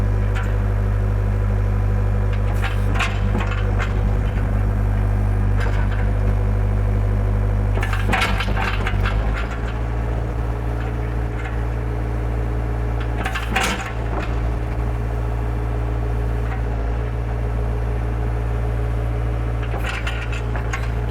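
A 2016 Hyundai HX60MT excavator with its engine running steady and low, punctuated by loud mechanical clanks and knocks from the machine's movement, close by with no talk.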